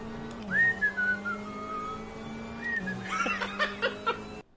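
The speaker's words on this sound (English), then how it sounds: "I guess you gotta hear the whistle." A person whistles a gliding, sliding melody over a steady background drone, then adds short chirping notes with faint chuckling sounds before the sound cuts off abruptly.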